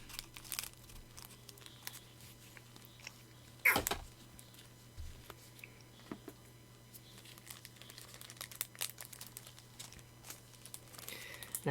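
A Yu-Gi-Oh promo pack wrapper is cut open and then handled. Its foil gives off scattered close crinkles and rustles, with one louder tearing crinkle partway through and quieter crackles after.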